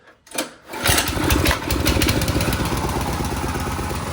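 A cheap pit bike engine, still missing a few parts, coughs and catches after a short silence, then settles into a steady, close, fairly loud idle that runs slightly high with a rapid buzzing putter.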